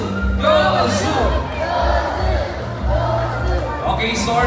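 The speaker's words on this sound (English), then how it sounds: "all the boys will cheer for Blue. Come on, boys!" Audience of boys and girls cheering and shouting in loud bursts at a bird show at an ocean park, a crowd chant rising and falling over several seconds, close and loud, with amplified voices mixed in.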